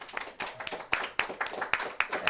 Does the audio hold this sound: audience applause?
yes